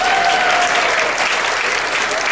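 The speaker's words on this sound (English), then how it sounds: "Lots of applause for that one." Loud, dense applause from an audience at a college honors awards convocation, a continuous wash of clapping filling the whole stretch, with a faint voice or tone underneath at the start.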